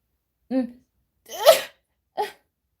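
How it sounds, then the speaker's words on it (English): A person sneezes sharply in the middle, with a short vocal sound just before and another brief one right after. "Okay, that was a sneeze."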